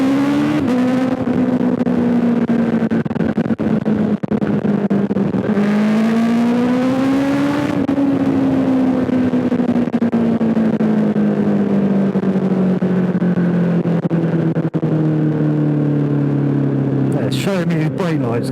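A motorcycle engine hums steadily while riding behind a car, its pitch rising and falling with the throttle, close and continuous under someone talking throughout.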